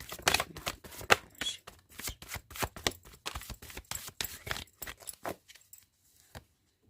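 Tarot cards shuffled by hand in rapid, repeated riffling bursts, close and crisp, with the flurry thinning out and stopping near the end.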